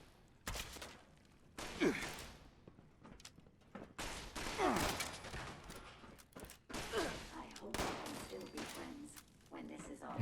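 Gunfire in Fallout 76 crackles in several separate bursts amid a ruined office area with a Robo-Brain nearby, moderately loud and mixed with a voice talking and sighing between shots.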